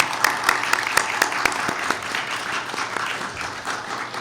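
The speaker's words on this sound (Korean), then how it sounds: "부탁드리는 의미에서 다시 한번 큰 박수 부탁드립니다." Church congregation applauding during a worship service, a steady wash of many hands clapping with a few sharper individual claps standing out, sustained and fairly loud throughout.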